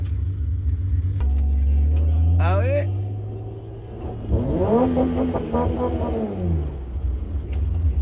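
A BMW E30 fitted with a performance exhaust idles with a deep low rumble, then revs sharply once and settles, rising again in a second longer rev, heard close with a few voices speaking over it.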